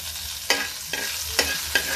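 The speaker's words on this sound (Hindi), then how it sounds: "तो तेल गरम हो गया, जीरा डाल देते हैं। जीरा तड़कता है" Cumin seeds sizzling in hot oil, steady crackle punctuated by four sharp scraping stirs at roughly regular intervals, close up with no voices.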